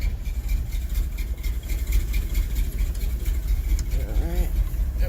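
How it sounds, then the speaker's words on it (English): A 1979 car engine with an exhaust manifold leak idles with a rough, sputtering exhaust rumble, continuous and close, with faint background noise throughout. "Love that nice exhaust leak coming out the manifold."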